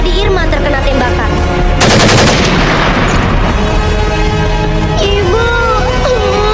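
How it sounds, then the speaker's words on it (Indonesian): Loud bursts of automatic gunfire sound effect play during a high school heroes' day drama performance, a rapid rattling volley over music and background noise, with other tones and effects continuing around it. "Pada saat sedang digendong itulah Adi Irma terkena tembakan."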